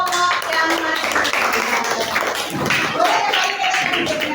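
A classroom group claps for a study group at a teacher-training session, dense applause running steadily through the whole stretch with voices mixed in beneath.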